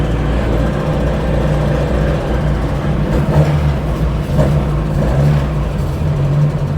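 Worn, nearly dead Ford car engine idling at a drag strip with an audible rattle, a steady low rumble and clatter heard close and continuous.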